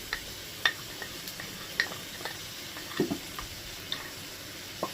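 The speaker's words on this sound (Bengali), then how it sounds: "এটাকেও একসাথে ভাজবো সব একসাথে ভাজা হবে" Crushed ginger and green chili fry in a pan with a quiet, close sizzle broken by scattered sharp ticks and pops.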